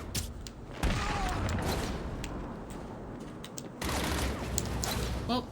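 Gunfire during a firefight in Batman: Arkham City: a dense fusillade of sharp cracks and rapid shots over a constant noisy din, with a brief lull midway before the shooting picks up again.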